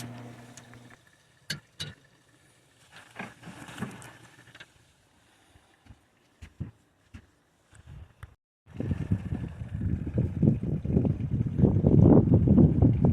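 A Force Mercury Mariner two-stroke outboard motor, being winterized with fogging oil, runs at wide-open throttle in the second half, a loud, steady, rough roar that follows several seconds of scattered clicks and knocks.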